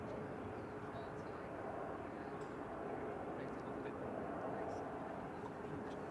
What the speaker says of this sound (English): There's a plane there. Ryanair.